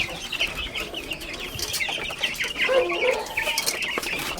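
Polish chickens in a backyard breeder's pen cluck and call steadily over several seconds, close by, with other birds chirping faintly in the background.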